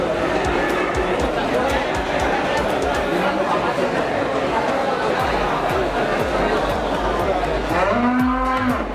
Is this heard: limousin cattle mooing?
yes